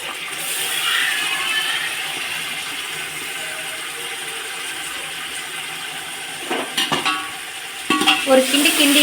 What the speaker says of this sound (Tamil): இப்போ நம்ம சிக்கன் சேர்த்துக்க போகிறோம்.